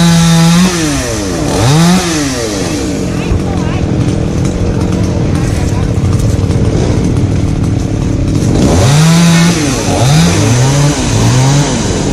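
A chainsaw revs in bursts while cutting down trees, its pitch rising and falling between a steadier loud cutting drone, close and harsh.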